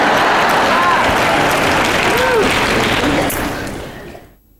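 An audience bursts into dense, steady applause that carries for several seconds and then fades out near the end.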